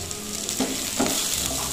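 Chopped carrots and capsicum go into a pan with softened onion, giving a brief, moderately loud frying sizzle with a couple of soft stirring scrapes, no voices.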